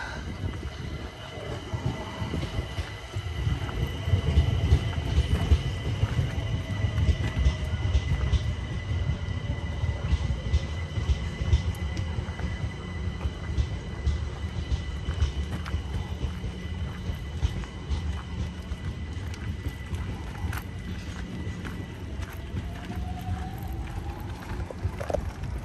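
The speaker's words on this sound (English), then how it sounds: "Train gone past." A train rumbles past in a long, steady roar, with a faint high squeal of wheels on the rails.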